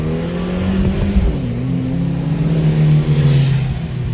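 A 1.4-litre Opel Corsa engine revs loudly and close by, its pitch climbing and dipping in a sustained mid-range drone with no voices over it.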